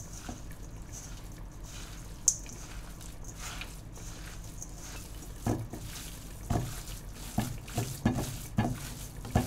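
Hands squishing and kneading a wet meatball mixture with eggs and panko in a bowl, irregular squelches and soft thuds growing busier toward the end, close with no talking.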